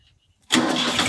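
A Farmtrac 45 tractor engine, working a field with a 6-foot rotavator, cranks and fires after a short quiet pause, then settles into a loud, steady running rumble close by.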